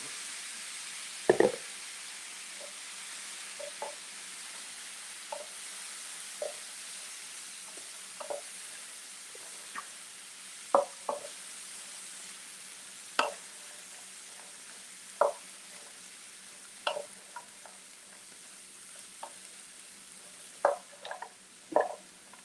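Vegetables frying in a hot pan during a healthy cooking demonstration, a soft steady sizzle with scattered crackles, pops and stirring clicks spaced every second or two, no talking over it.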